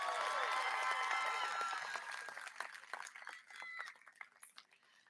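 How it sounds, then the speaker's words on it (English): A crowd applauds and cheers at a college commencement, loud sustained clapping with voices at first, then fading and thinning into scattered claps over several seconds. "Let's give Alam one more hand of applause"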